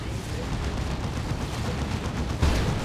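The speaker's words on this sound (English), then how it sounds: "There's the Demolisher Cannon." Demolisher Cannon on a Baneblade super-heavy tank in Dawn of War 2, booming amid a steady rumble of battlefield gunfire, with a heavier blast near the end.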